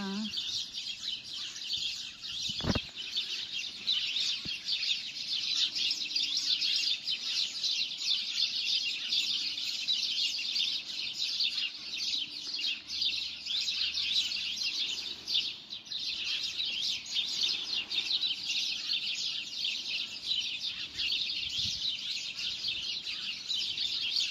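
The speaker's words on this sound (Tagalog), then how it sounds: "Huni ng ibon sa umagang kay ganda." Dense, continuous chirping and twittering of birds, steady and fairly close throughout, with a single sharp knock early on.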